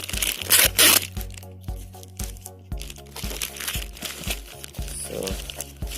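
Tripod packaging being unboxed, with the plastic cover peeled off: loud crinkling and crunching of plastic, a sharp burst early on, then repeated rustles and tears close up, no talk.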